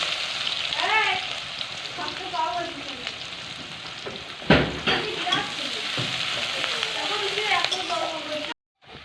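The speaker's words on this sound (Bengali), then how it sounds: "তেলের মধ্যে দিয়ে দেবো কিছুটা কষানো পেঁয়াজ" Onions that were already browned sizzle loudly in frying oil for a fish dopeyaja, with crackling and spattering throughout, a sharp burst midway when something is stirred, and a sudden cut to silence at the end.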